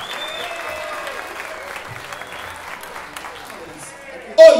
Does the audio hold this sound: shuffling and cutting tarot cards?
no